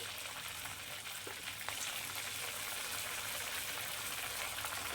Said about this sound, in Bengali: তেলটা অলমোস্ট গরম হয়ে গেছে এখন আমি পিঠেগুলোকে এইভাবে এর মধ্যে দিয়ে দেবো